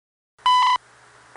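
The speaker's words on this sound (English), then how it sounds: "it went right back to beeping, which it kept doing for about another minute" Time signal beep from the CHU Canada shortwave station, a single clear tone of about a third of a second standing out over faint radio static.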